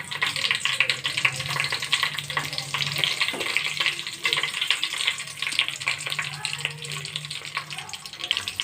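Whole spices (shahjeera, cloves, cardamom and bay leaf) sizzling in hot oil in a pan for bagara rice, a steady loud crackling hiss that runs throughout with no pause.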